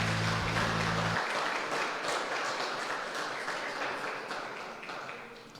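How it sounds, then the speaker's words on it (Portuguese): A church congregation applauds during a worship service, a broad wash of many hands clapping that sounds roomy and continuous, slowly fading toward the end, with a low hum at the very start. "Aplauda ao Senhor com muita alegria no teu coração."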